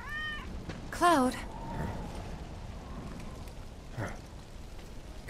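Cat in the Final Fantasy VII Remake video game giving two short rising meows close by over faint rain-like background noise, with a softer sound a few seconds later.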